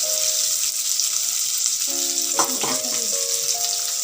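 Onions sizzle and fry in a hot pan of oil while gongura pulusu is cooked, a constant crackling hiss with occasional stirring clatter and short clinks mid-way.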